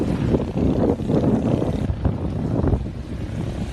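Strong wind at a fishing spot in Kalumpit, Bulacan buffets the microphone in a steady, loud rumble with gusty surges throughout, no voices present.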